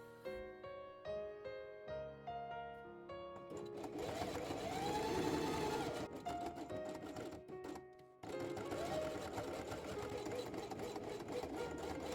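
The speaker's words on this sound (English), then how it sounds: "place it on felt of the same color and sew it along the edge, matching the thread color to the felt color." Sewing machine stitching along the edge of felt quiet-book pages, with short stop-start bursts of rapid needle clatter first, then longer sustained runs with a brief break, close and unaccompanied by speech.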